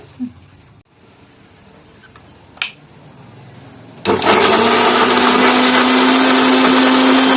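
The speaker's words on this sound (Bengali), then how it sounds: "আমরা এখন মিক্সিতে মশলাটা করে নিবে নিছি" Electric mixer grinder grinding whole spices for chicken kasha, bursting on loud after a few seconds of quiet kitchen noise with a knock, then whirring at a high, steady pitch close up.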